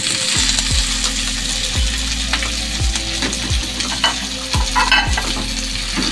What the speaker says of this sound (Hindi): प्याज आप देख सकते हैं फ्राई हो रही है।